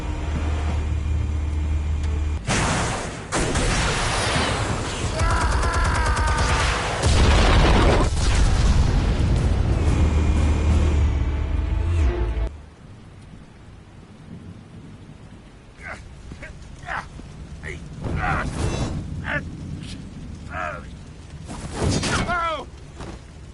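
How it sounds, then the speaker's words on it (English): Explosives detonate with loud, sustained booming rumbles in the Batman Telltale Series game, filling the first half before cutting to quieter sharp bursts and debris sounds, with talk heard afterward. "Explosives armed. Fire when ready."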